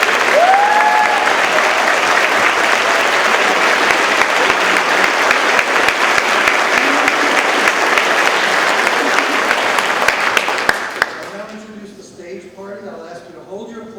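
An audience at a medical school white coat ceremony applauds loudly and continuously for about eleven seconds in a large hall, then the clapping quickly dies away to scattered claps and room noise.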